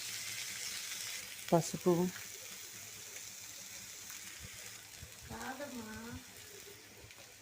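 Onion, green chilli and coriander frying in a pan, a soft continuous sizzle heard fairly close, briefly interrupted by someone speaking a few words.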